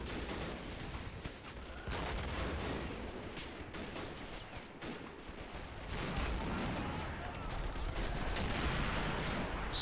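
Video game battle with US Marines besieging a French citadel: dense, continuous artillery booms and machine gun bursts overlapping throughout, loud and chaotic with distant and near impacts.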